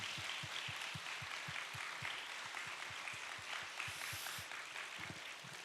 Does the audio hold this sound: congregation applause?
yes